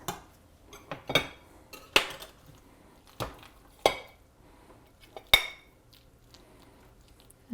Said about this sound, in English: Let's put some on a plate.